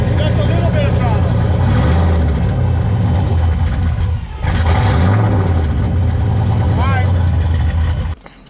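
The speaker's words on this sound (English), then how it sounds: "That's a little bit of throttle." Car engine blipped with light throttle, a loud close idle punctuated by a few short rising-and-falling revs, with someone talking over it before it cuts off abruptly.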